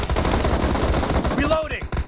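Rapid video game gunfire from a player's weapon, a dense run of sharp shots filling the whole stretch at close range, with a brief whooshing effect near the end.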